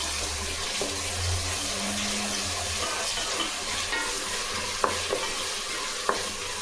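Onions with salt sautéing in a pressure cooker for chicken biryani, a soft steady sizzle with scraping stirs and a few sharp clinks of a ladle against the metal, no talking.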